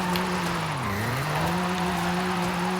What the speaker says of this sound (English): we're still wheel spinning gear 4